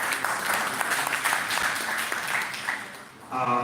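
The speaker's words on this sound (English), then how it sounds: "Have a round of applause." Round of applause from an audience at a live event introducing a poet and playwright, a dense, steady patter of clapping that fades near the end as a voice begins speaking.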